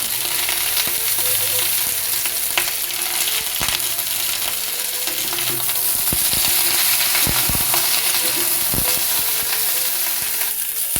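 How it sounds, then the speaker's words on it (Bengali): Potato, pointed gourd and drumstick pieces frying in oil in a pan, a loud continuous sizzle broken by clinks and scrapes of stirring, with no voices. "আলুর সাথে পটলটা লাল করে ভেজে দিচ্ছি। এবার সজনে ডাঁটাগুলো দিয়ে দিচ্ছি।"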